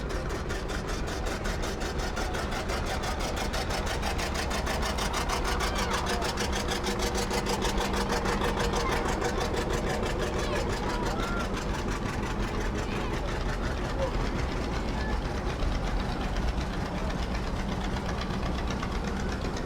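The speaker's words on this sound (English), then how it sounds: "Now that is a John Deere that looks like it could get some work done." A John Deere tractor from Grant Farms rolling in a Farmers Day parade, its engine knocking and rumbling steadily and fairly loud with faint voices over it.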